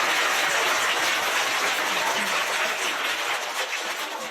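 Audience applause at a road safety and traffic police seminar held at a school, a sustained, dense wash of clapping from a sizable crowd, loud and steady for several seconds before tapering slightly.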